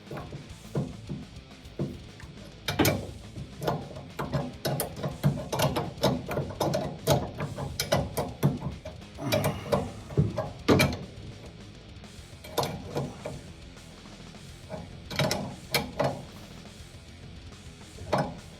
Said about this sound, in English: And tighten down the castle nut.